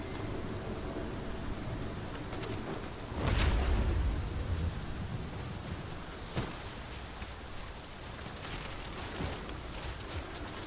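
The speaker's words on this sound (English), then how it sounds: "It is raining most heavily" Steady heavy rainfall in the video game Dragon's Dogma 2 hisses throughout, with a louder rumbling burst near the start and a few sharp cracks later on.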